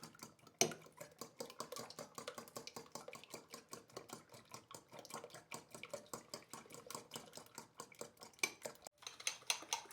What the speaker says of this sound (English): I'm going to mix my eggs with the onions so that they blend together.